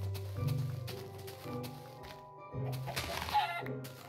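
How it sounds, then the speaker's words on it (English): Minecraft chicken clucks in short soft bursts, several in a row, mixed with light thunks and low game sounds. No speech is heard. "Hey, chicken."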